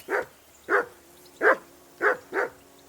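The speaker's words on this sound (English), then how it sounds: "Call that dog to heel." A dog barks in the video game Kingdom Come: Deliverance 2, giving five evenly spaced barks at moderate distance against a quiet background.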